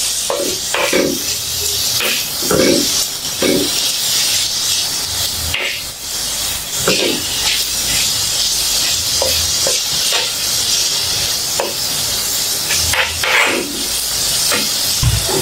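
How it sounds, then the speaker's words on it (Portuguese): Chopped dried shrimp and onion frying in olive oil for farofa, a loud continuous sizzle and hiss close up, broken by repeated scraping stirs of a utensil through the pan. "Eu vou deixar dar uma leve fritadinha aqui nesse camarão também."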